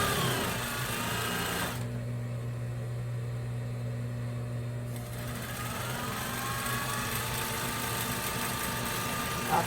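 A sewing machine stitches a Christmas cushion, running in a steady close whir that pauses for a few seconds and then resumes just as evenly, with no voices.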